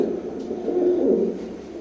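Imported-line Teddy pigeons of an Oman bloodline coo steadily and close by, a soft, throaty, rolling murmur that swells slightly midway through, with no talking.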